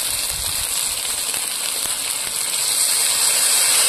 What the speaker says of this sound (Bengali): এবার ওই জলটা দিয়ে দেবো